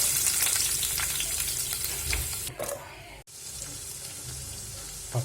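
Chopped ginger and garlic frying in hot oil with mustard seeds and cumin for a Kerala-style egg dal curry, a steady close sizzle with brief stirring clatter and a short dip midway.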